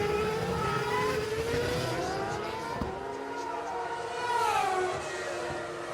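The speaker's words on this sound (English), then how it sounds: "Cars coming across the start-finish line for a curious start to this Japanese Grand Prix." Formula One cars cross the start-finish line at the rain-hit 2007 Japanese Grand Prix, running behind the safety car, their engines droning steadily in overlapping tones that swell as one passes close by, with no talk over them.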